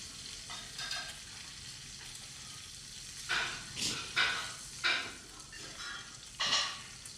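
Bacon frying in a pan with eggs, a steady faint sizzle broken by several short louder crackles and stirring bursts, no voices.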